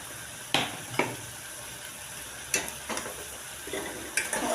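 Chicken liver with garam masala and chicken masala stirred in a hot pan, a soft constant sizzle broken by several sharp scraping strokes of a spoon against the metal.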